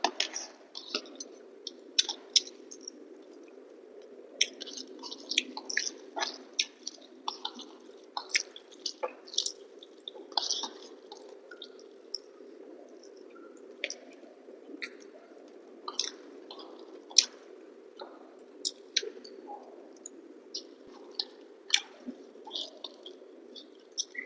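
Close, wet chewing of paneer and a home-cooked Bengali meal with cucumber shukto and pointed gourd curry, soft squishy bites and smacks repeating irregularly over a quiet room hum, with no speech.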